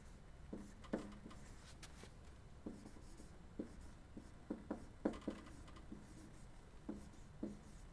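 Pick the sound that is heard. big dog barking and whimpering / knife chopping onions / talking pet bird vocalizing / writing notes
writing notes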